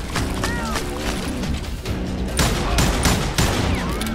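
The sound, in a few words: gunfire in video game Call of Juarez Gunslinger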